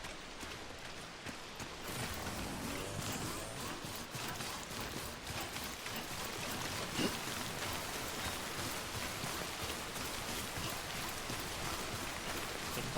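Steady rain pours down across a Death Stranding landscape, forming a dense, continuous hiss that stays even throughout with no voices.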